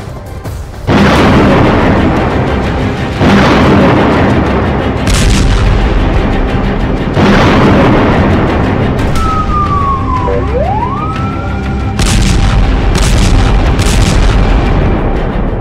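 Explosions from Israeli airstrikes in Gaza, several loud booming blasts in quick succession at close range, with a siren wailing briefly between them.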